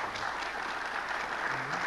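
Audience applause at a Berlin discussion event with Henry Kissinger, Egon Bahr and Valentin Falin, a steady wash of clapping from a large hall that holds evenly throughout, moderately quiet and distant.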